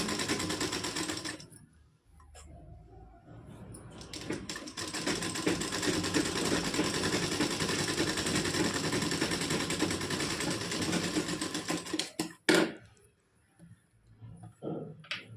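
A sewing machine runs a half-inch seam through fabric, a fast steady close mechanical chatter that goes on for about ten seconds after a short start and pause, then stops with a few clacks.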